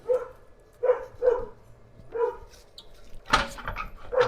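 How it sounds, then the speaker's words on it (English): A dog in a woodworking shop barks in short, sharp bursts, several spaced yips and woofs close by, with a louder, rougher cluster of barks near the end. "My dog's happy to have me out in the shop in a t-shirt again."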